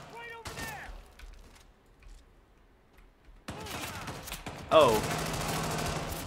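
Video game gunfire in Hitman 3, a burst of shots arriving after a quiet stretch and rising to a loud close volley, with a voice reacting briefly over the shooting.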